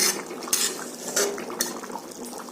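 A spoon stirring chicken curry made with mawa in a pan, a few sharp metallic clinks and scrapes against the pan over a soft bubbling sizzle, close and clear.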